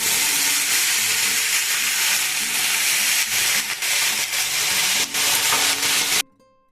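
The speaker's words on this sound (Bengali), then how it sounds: "তারপরে পেঁয়াজ কলিগুলোকে দিলাম" Washed onion greens hit a hot frying pan with softened potato, eggplant and tomato, raising a loud, dense, continuous sizzle that cuts off abruptly near the end.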